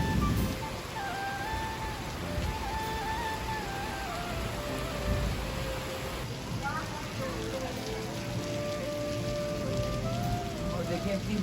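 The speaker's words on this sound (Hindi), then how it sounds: "बहुत तेज बारिश हो रही है।" Heavy monsoon rain pours down steadily and close, a dense continuous hiss of drops on surfaces across the whole stretch, with faint voices and tonal background sounds mixed beneath it.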